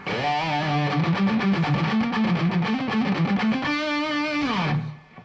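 Distorted electric guitar playing a fast, aggressive riff with a gritty, saturated tone, ending on a sustained note that fades out.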